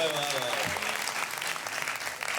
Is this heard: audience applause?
yes